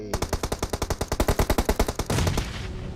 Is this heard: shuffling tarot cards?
no